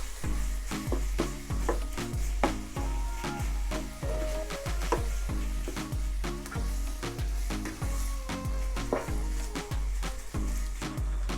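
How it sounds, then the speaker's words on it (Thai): Beef stir-fried with a fried shrimp-paste mixture in a pan, with steady rhythmic scraping and stirring strokes over a continuous sizzle, close and fairly loud throughout. "ใช้วิธีการลวนเนื้อกับตัวเครื่องที่ผัดไว้นะคะ"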